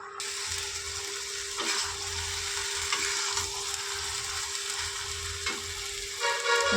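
Water spinach greens fry in a pan with a steady, close sizzle, punctuated by a few soft scrapes of stirring, with no talking.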